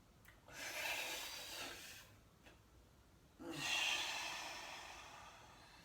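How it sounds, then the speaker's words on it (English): A person breathes in slowly during a breathing exercise, two long airy inhales separated by a short pause, close and soft with no talking. "inhale"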